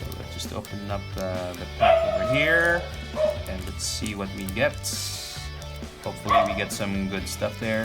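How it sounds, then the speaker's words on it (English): A pet dog barks and yips repeatedly, reacting to other dogs outside, its sharp yelps scattered through the clip beneath a person talking close by. "Apologies for the dog barking."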